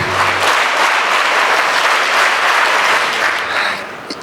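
Audience applause at a school investiture ceremony and Toastmasters grand finale, dense sustained clapping from a large crowd, loud and continuous, easing slightly near the end.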